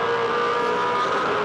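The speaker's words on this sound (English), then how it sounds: "Drag race down the front stretch." V8 Supercars touring cars race flat out down the Pukekohe front straight, a continuous loud engine roar with a high sustained tone that holds steady across the short stretch.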